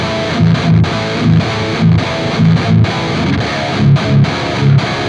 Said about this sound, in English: Granted, like that's a lot of distortion, and I know I'm overdoing it.